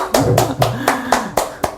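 Audience applause welcoming a guest teacher to an elementary English class, a short burst of about six sharp claps in an uneven rhythm, close and fairly loud.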